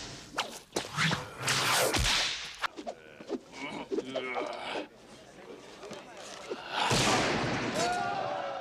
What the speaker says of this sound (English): we built up a library of whip cracks